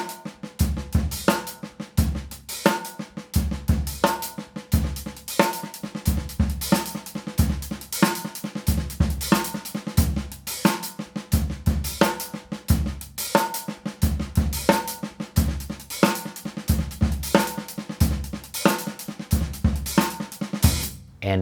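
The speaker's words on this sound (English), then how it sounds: "I'm gonna open the hi-hat on that last note before the backbeat on the snare drum." A steady drum groove that opens the hi-hat just before each snare backbeat, with punchy kick and snare hits in a driving repeating rhythm and sizzling cymbal wash throughout. No voices.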